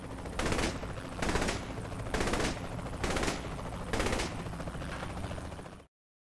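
Video game gunfire in five rapid automatic bursts, evenly spaced about a second apart, loud and sharp, with no talk over them.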